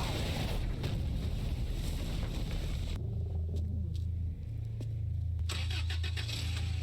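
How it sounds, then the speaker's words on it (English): A car engine starts in the video game Metal Gear Solid V, turning over and settling into a low, steady rumbling idle that continues to the end. "Snake, do you know how loud a car engine is?"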